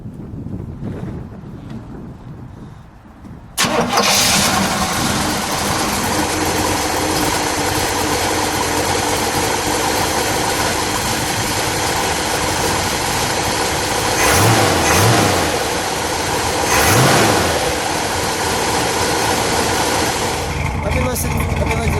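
After a few seconds of quiet wind, a 1967 Oldsmobile 442 Cutlass Supreme engine roars to life and runs steadily, with two swelling revs partway through, loud and close under wind buffeting.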